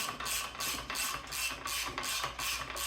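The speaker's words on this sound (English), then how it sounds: "Sometimes I keep the valve from going down when I compress the spring." Valve spring compressor being worked on a 5.7 Hemi cylinder head, repeated rhythmic ratcheting clicks in bursts about every half second, close and clear, no voices.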